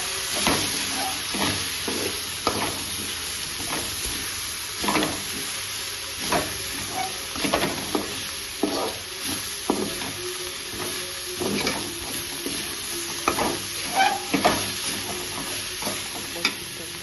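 Flat bean curry with chili powder stirred in a frying pan, a continuous sizzle with regular scraping strokes of the spoon throughout, close and steady.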